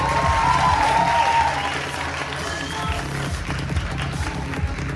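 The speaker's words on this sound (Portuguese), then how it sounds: "Peço aí os aplausos" Audience applause at a Brazilian ceremony honoring a police regional chief, a dense steady clapping wash that fades slightly after the first second and continues under a voice.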